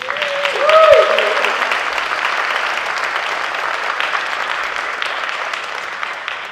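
An audience at a Susan G. Komen Praise in Pink event applauds to welcome two speakers, with steady sustained clapping and some cheers at the start that fade slowly.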